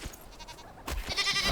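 A goat in the Enshrouded survival game gives a short bleat. The call is brief, faint and close, following a soft rustle.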